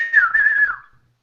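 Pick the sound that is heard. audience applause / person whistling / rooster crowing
person whistling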